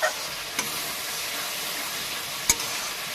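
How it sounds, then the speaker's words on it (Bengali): Spice paste with a little sugar frying in a pan for a koi fish and cabbage dish, a quiet steady sizzle broken by two sharp clicks of the spoon. "একটু ভালো করে নেড়ে নেবো মশলাটাকে কষিয়ে নেবো"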